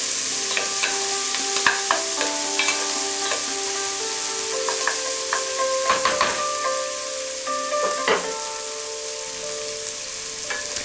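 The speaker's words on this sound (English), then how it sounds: "You want to cook them slow so that you get a nice soft caramel texture to them." Onions sautéing slowly in a pot for beef barley soup, a steady soft sizzle with scattered clinks and scrapes of stirring throughout.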